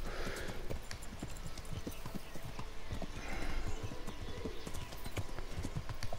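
Horse hooves clip-clopping in a steady trotting rhythm as a rider travels along a road in Kingdom Come: Deliverance, with a faint whinny, the sound fairly soft and continuous.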